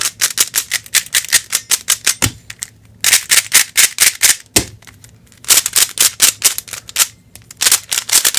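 A Cyclone Boys 3x3 puzzle cube is turned rapidly, giving sharp, slightly muffled clicking and clacking bursts in quick runs separated by short pauses, close and loud.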